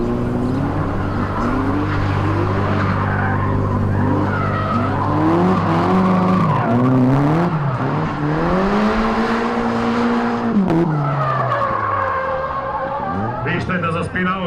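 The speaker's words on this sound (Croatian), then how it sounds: "Toga nema ni na cesti ili ne znam u muzejima, ali evo ga na driftu ovdje Manta i Sale, da vidimo kako će proći." An Opel Manta drifts at a Croatian drift challenge qualifying round, its engine revving in long rising and falling sweeps while the tyres squeal and skid continuously, loud and close throughout.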